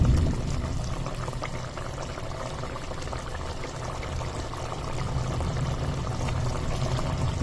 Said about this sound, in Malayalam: നന്നായിട്ട് തിളച്ചു.